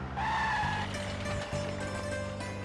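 A car braking to a stop, a tonal brake or tire squeal over low engine rumble, with a brief dip and then the idling hum continuing near and alone.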